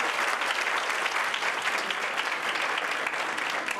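An audience of students and listeners at a lecture on administrative skills in public organizations breaks into steady, even applause that stays at a constant level throughout, with no talk over it.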